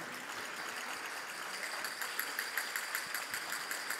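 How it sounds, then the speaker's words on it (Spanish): Audience applause at the opening ceremony of a book fair, a steady dense wash of clapping that holds evenly for about four seconds with no voices over it. "Un fuerte aplauso."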